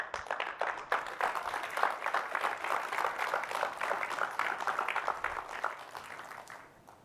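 A conference session audience applauds, a sustained burst of dense hand clapping that holds steady for several seconds before fading out at the end.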